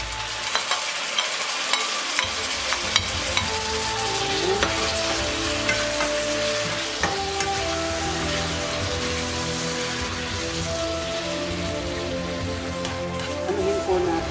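Tomato frying in a pan, a loud dense continuous sizzle with stirring, crackling steadily throughout close up.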